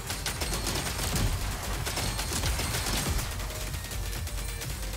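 A mech's minigun fires continuously in the video game Uragun, a dense, rapid stream of loud mechanical gunfire bursts that runs without pause through the whole stretch.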